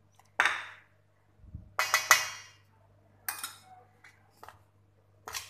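A spoon mixes melted butter in a bowl for pizza dough, giving a handful of close, irregular clinks and scrapes separated by short quiet gaps.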